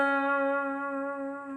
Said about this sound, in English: use the whammy bar to bend a note down and up again